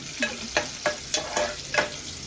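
Onion fries in hot oil as tempering for a Malvani fish curry, a close sizzle punctuated by five regular stirring scrapes roughly every third of a second, with no voices.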